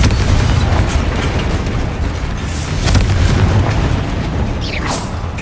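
A Confringo blasting spell in Hogwarts Legacy goes off as a string of loud, deep booming explosions with crackling bursts, dense and continuous over the short span, with no voices.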